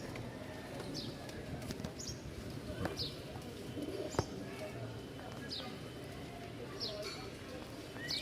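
Soft cooing from Lal Sundari and Tiger Giribaz pigeons repeats faintly over a busy, noisy background with rustling and occasional bumps, some distant voices mixed in.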